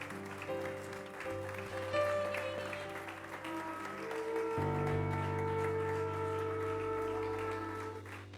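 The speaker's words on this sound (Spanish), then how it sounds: "Denle un aplauso al Señor." A church congregation applauds for the Lord during a worship service, giving steady, continuous clapping beneath sustained music.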